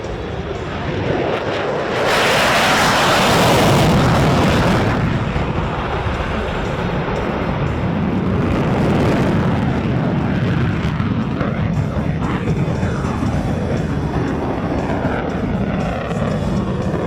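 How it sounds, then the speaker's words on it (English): A USAF F-16 Fighting Falcon jet at an air show roars past, a loud broad turbine rush that swells sharply after the start and holds as a sustained thunderous roar for the whole stretch, with no talk. "put your hands together for Major Waters and the F-16 Fighting Falcon."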